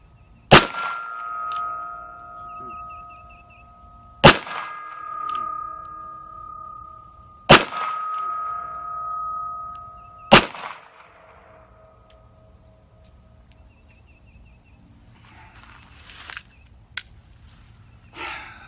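Four evenly spaced shots from a North American Arms single-action .22 Magnum mini revolver, each sharp crack followed by a clear ringing tone from a hit steel target that decays over a couple of seconds, then quieter handling clicks.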